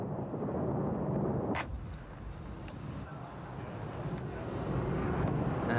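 US bombers and anti-aircraft fire over Baghdad make a dense, continuous low rumble, broken by one sharp burst near the start, heard from a distance in archival war footage.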